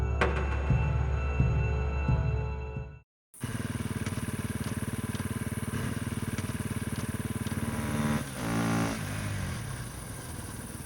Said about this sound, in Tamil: டேய் வண்டி வேற அடிக்கடி ஆஃப் ஆகுது.